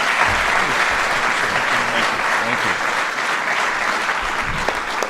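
An audience applauds the President of the United States, a sustained wash of loud clapping from a crowd that holds steady for several seconds.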